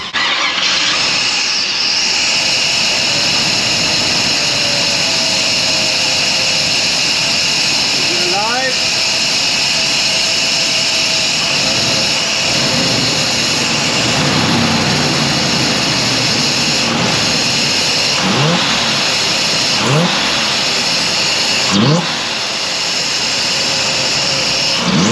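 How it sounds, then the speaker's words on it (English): A 1985 Chevrolet El Camino that has been shutting down while driving runs steadily at close range, its loud, even engine drone filling the whole stretch with a few brief mechanical sweeps. "Let's bump the key and restarting the engine."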